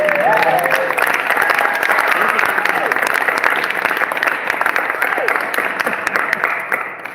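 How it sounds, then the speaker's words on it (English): Sustained, loud audience applause fills the Tacoma Armory during a concert near the last song, steady dense clapping with crowd noise and faint voices throughout. "can you give yourselves a round of applause for coming out tonight?"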